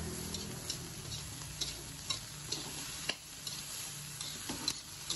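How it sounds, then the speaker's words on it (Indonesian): Seafood fried rice with shrimp and squid is stirred quickly in a hot pan, a steady sizzle with repeated scraping clicks and taps of the spatula close by, with no talking. "kita kembali aduk rata dengan cepat supaya tidak lengket"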